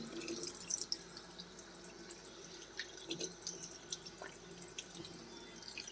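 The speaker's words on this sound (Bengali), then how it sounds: "চলো একটু জল নিয়ে মুখটা ধুই।" Tap water trickles and drips at a sink as a face is washed, soft and close, with irregular splashes and drips throughout and no talking.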